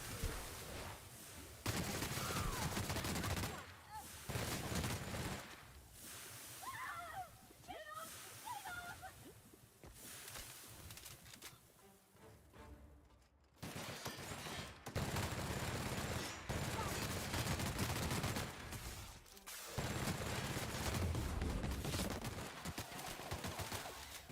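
Machine gun fire rips out in long, loud bursts in The Outer Worlds video game, separated by brief lulls with splashing and game effects, with someone talking over part of it.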